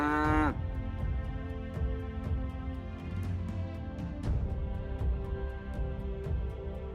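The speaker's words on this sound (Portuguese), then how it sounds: "O boi é força e mansidão." Cattle moo outdoors, with a loud close low moo at the start followed by a steady rural background of further lowing and faint clicks.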